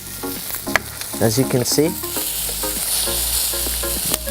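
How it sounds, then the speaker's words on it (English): Cherry tomatoes sizzle and pop in olive oil and white wine beside a cooking branzino. Someone talks briefly at the start, then the steady, close frying hiss carries on alone. "the sizzling sound that the tomatoes make when it explodes, that the olive oil and the white wine create as the branzino is cooking"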